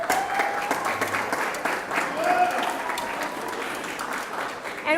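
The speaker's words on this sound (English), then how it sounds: "we'll include that applause for the Feast Committee" An audience applauds continuously, a broad wash of clapping that holds steady for several seconds, with faint voices mixed in.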